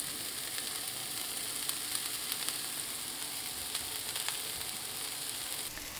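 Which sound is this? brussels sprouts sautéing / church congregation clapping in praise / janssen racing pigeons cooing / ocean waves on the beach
brussels sprouts sautéing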